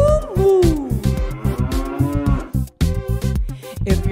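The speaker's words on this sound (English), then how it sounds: "If you're a cow and you know it, say moo moo." A cartoon cow moos in a song for children, giving long sliding lowing calls over a bouncy backing track with a steady beat.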